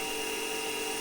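A CNC lathe faces off a brass part for a safety valve, producing a steady, continuous machining whine with a constant tone and no breaks, heard close up.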